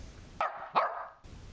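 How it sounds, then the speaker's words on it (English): A dog gives two quick sharp barks close to the recorder, separated by a short pause, with quiet room noise around them. "Yep, that's Rosie. Rosie dog"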